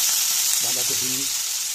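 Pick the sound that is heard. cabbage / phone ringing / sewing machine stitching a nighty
cabbage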